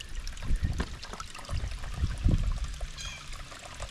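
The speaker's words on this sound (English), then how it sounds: "So I guess there's a spring right here" Water from a spring beside the Appalachian Trail trickles and splashes steadily outdoors, with uneven gurgling pulses over a soft background hiss.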